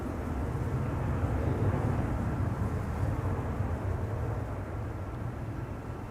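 A DHL Airbus A300-600 departs Amsterdam Schiphol for Madrid with a loud, steady, low jet-engine roar that holds constant and fades a little near the end.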